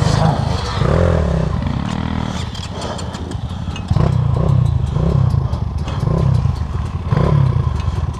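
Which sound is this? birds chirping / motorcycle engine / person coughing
motorcycle engine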